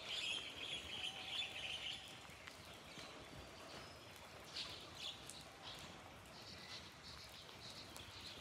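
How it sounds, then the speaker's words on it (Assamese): Birds calling outdoors on a misty morning after rain at Dibrugarh University, with a few short chirps and calls rising over a soft, steady background hiss. "ৰাতিপুৱা অকল চৰাই মাতে থাকে"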